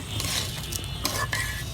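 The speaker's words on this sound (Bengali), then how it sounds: "এইভাবে আপনাদের ভাইয়া উলট পালট করে নেড়ে নিচ্ছে" Lentils dry-fried in a pot for bhuna khichuri are stirred and turned with a utensil, giving a steady close scraping and rustling with a faint sizzle underneath and no voices.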